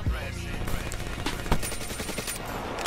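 Rapid bursts of Peacekeeper gunfire in a first-person shooter video game, sharp repeated shots with rattling reports, loud and close, one heavier hit midway.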